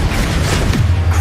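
An explosion from the Confringo blasting spell goes off in the Hogwarts Legacy game. It is a short, loud, dense burst with a deep rumbling low end that fills the moment on its own.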